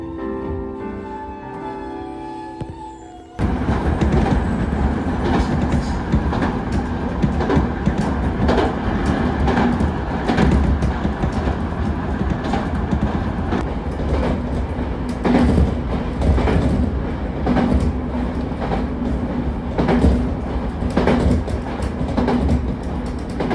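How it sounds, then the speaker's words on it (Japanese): Iida Line train departing a station in winter, a steady loud rumble and clickety-clack of rolling wheels building after a quiet start, with rhythmic rail joint beats throughout. "列車は一台駅を出発していきました。"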